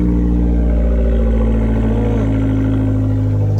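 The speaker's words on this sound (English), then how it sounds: "Turbo noises." A Fiat 500 Abarth turbo fitted with a TurboSmart Kompact blow-off valve runs with a loud, steady low engine drone close by, with a faint whooshing turbo flutter riding over the idle.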